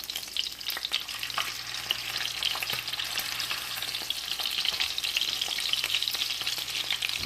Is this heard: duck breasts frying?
yes